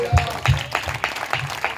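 Congregation clapping at a Christian church gathering on an open ground in Dharmajigudem: several rhythmic bursts of group applause at a steady beat, fairly close and loud.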